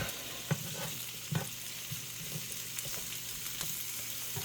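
Hamburger patties fry in a non-stick pan with a constant close sizzle, while plastic utensils scrape and tap against the pan in a few distinct knocks. No one speaks.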